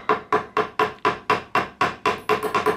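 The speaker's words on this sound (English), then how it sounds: "tap the pin so that I spread this edge out wider. And so just tap it in." A hammer taps a pin on a small anvil clamped in a vise during a Snap-On ratchet wrench rebuild, striking about a dozen sharp, evenly spaced metallic blows that quicken slightly toward the end, close and clear with no talking.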